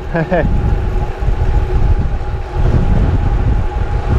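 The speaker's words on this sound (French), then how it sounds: "ce vent c'est incroyable" Strong wind roars steadily into the microphone, a constant low rumbling buffet that persists throughout, with a brief voice near the start.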